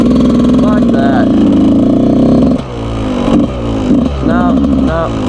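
A dirt bike engine revs loudly and close on a public road, its pitch rising and falling in a strained drone that briefly drops, then surges again.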